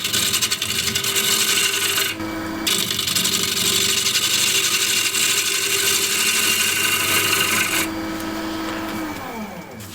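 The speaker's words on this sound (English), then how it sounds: "So I'm using the spindle gouge again." A spindle gouge cuts a spinning wooden tray blank on a lathe, giving a continuous loud rasping, hissing scrape over the lathe motor's hum, with brief pauses as the tool lifts off.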